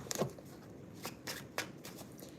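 A deck of self-care cards being shuffled by hand, a few quick riffling bursts and soft slides close by, with short gaps between them and no talking.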